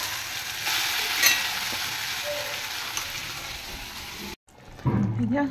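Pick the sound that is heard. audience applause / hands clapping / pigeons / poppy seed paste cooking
poppy seed paste cooking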